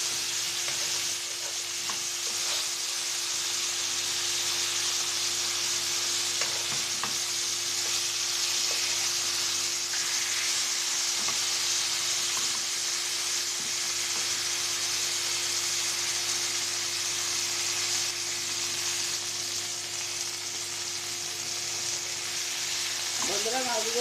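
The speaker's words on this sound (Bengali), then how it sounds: "মাছগুলো উলট পালট করে ভেজে নেব।" Pieces of large silver carp sizzle in hot oil in a pan as they are turned over, a steady close frying hiss that holds for the whole stretch with a few small stirring knocks.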